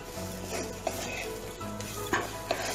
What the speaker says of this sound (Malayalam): പൊട്ടിക്കട്ടല പൊടിയിട്ടിട്ട് 2 മിനിറ്റ് നന്നായി ഇളക്കുക.